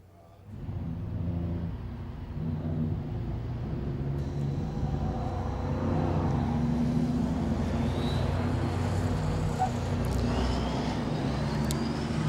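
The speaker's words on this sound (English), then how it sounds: "Trucks rolling out onto the racetrack here at Winton Motor Raceway." Race trucks roll out onto the circuit at Winton Motor Raceway for a round of the Victorian Motor Racing Championship, their engines giving a steady, loud rumble with a higher whine coming in partway through.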